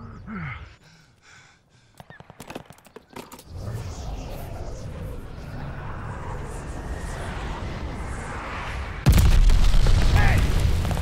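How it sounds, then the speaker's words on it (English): A glide bomb detonates in the Call of Duty: Vanguard Kill Confirmed match on the Gle's Nest map, a deep booming blast followed by a sustained rumbling roar that grows louder near the end, after a few sharp pops and game voice chatter. "Glide bomb, ready for target."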